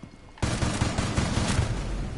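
A sudden burst of rapid gunfire from a video game shooter breaks out after a short quiet moment and continues as a dense, loud, crackling volley.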